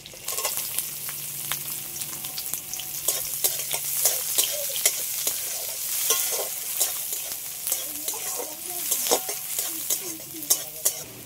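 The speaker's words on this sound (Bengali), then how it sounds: "এগুলো তো সব একসাথে একটু হালকা করে ভেজে নিয়েছি।" Chopped onion, garlic and vegetables frying in a pan, a continuous close sizzle with frequent spatula scrapes and taps throughout, no voices.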